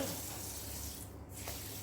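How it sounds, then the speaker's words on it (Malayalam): Water is poured over sesame seeds being washed in a kitchen, a soft, steady splashing rush that stays low and continuous throughout the short moment, with no voices heard. "പരുവത്തിന് വെള്ളം ഒഴിച്ച് നമുക്ക്"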